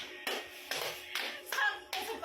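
Hands clap five times in a slow, even rhythm, sharp and fairly close, with quiet gaps between the claps.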